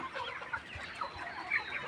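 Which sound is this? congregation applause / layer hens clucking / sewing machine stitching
layer hens clucking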